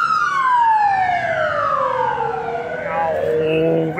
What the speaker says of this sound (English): Just an ambulance.